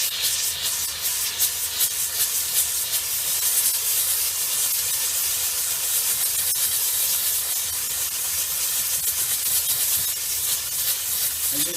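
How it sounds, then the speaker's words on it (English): A Vapor Clean Desiderio Plus steam cleaner with injection blasts steam onto a small grease spot on carpet fibers, a steady loud hiss running unbroken throughout with faint scrubbing texture underneath. "I'm going to hit this small grease area right here with some steam and injection."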